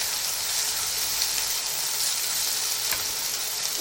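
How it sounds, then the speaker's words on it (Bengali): Dried puti fish with onion and garlic sizzles and crackles steadily in hot oil in a pan, a close, continuous frying hiss with no voices. "এই যে আমার শুটকি, সাথে হলো পেঁয়াজ রসুন, এই জিনিসগুলো এখন এটা আমরা তেলে দিয়ে দিচ্ছি।"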